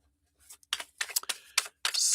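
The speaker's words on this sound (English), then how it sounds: "Shuffle those up." Tarot cards are shuffled in short papery riffles and flutters, a series of quick irregular bursts close to the listener with no talking.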